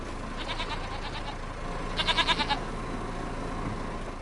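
Goats bleat in the Farming Simulator 25 video game: two short bursts of rapid, quavering bleats, the second louder and closer, over steady farm background ambience.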